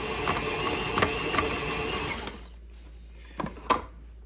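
A stand mixer with a paddle churns chocolate cherry scone dough in a steady mechanical whir for about two seconds, then stops, followed by a few faint clicks and knocks.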